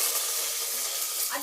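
Curry leaves and chopped onion sizzle steadily in hot oil in a pan, a continuous close, bright hiss with faint stirring scrapes and no voices.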